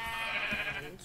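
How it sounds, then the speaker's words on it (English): Sheep bleating in the video game Minecraft, a single continuous wavering bleat heard close and fairly loud, with no talking over it. "Sheep."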